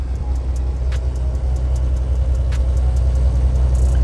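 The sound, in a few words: heavily loaded truck engine straining on the road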